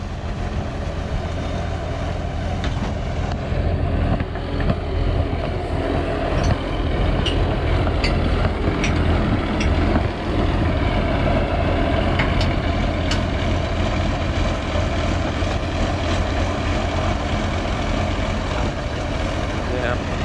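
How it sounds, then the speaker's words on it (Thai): A low ten-wheeler truck hauling rice climbs over a raised rice-field dike, its engine giving a steady, close, heavy rumble throughout, with voices talking over it. "สิบล้อเตี้ยขึ้นง่ายๆสบาย"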